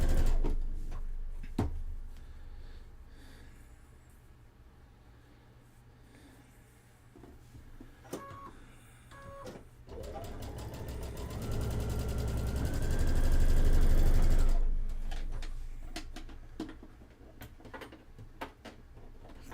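A sewing machine runs through pieced quilt fabric in one steady, fairly close burst of about four seconds, with quieter handling clatter and clicks before and after it.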